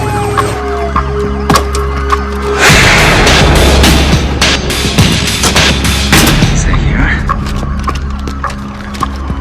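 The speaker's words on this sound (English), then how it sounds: "Okay, he's firing. He just shot through his own window." Loud gunfire in a movie robbery scene, with sharp bangs and booms over dense ongoing action noise and sirens, while voices speak excitedly throughout.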